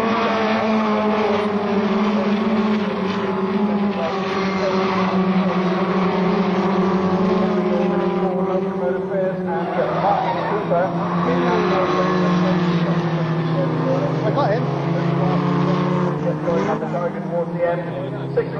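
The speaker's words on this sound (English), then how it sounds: "coming towards you with Nigel Jenkins in second place" Formula Ford 1600 race cars lapping Castle Combe circuit in a 1990 race, a continuous loud engine drone with shifting pitch running under steady commentary.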